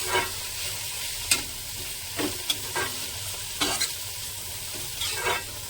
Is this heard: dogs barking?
no